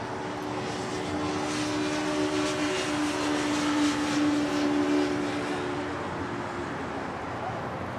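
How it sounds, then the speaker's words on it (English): A heavy Airbus A340 jet comes in to land on runway 25 Left at LAX. Its engine roar rises and falls steadily at a moderate distance, and a faint radio-like voice may sit under it. "Heavy Airbus 340 over the marker."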